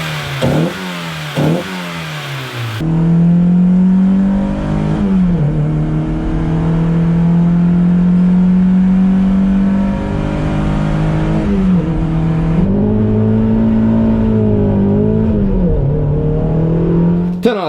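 Mazda MX-5 (NA/NB) fitted with a Spirit R intake revs hard: after two short blips the engine holds a loud, steady high-rpm drone for many seconds, dips and climbs again, and sits close and alone with no talking.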